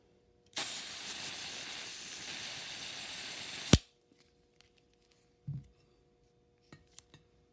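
A steady, loud hiss of green gas rushing into an airsoft pistol magazine through its bottom fill valve, lasting about three seconds and cutting off sharply, followed by a few faint clicks and handling noises.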